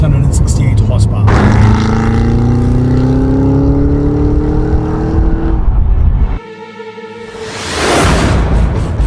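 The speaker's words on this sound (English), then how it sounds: "The V8 supercharged engine makes this the most powerful Cadillac ever with the 668 horsepower." A Cadillac CT5-V Blackwing with its supercharged V8 revs hard and climbs through rising engine pitch, cuts off abruptly, then swells again in a loud close roar, with a voice speaking over parts of it.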